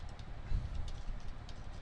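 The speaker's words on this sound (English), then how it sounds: "I typed in this password" Password being typed on a computer keyboard, with faint, quiet key clicks over a low background hum and no voices.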